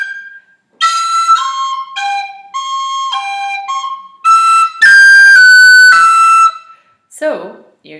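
A bright tin whistle plays a lively ornamented phrase from the tune Kitty's Rambles, notes stepping up and down with quick flicks and cuts, loud and close, ending in a breathy low note.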